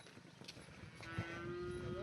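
A cow moos at a village home as the herd returns from the river to drink water. One drawn-out, moderately close low moo rises over faint background noise.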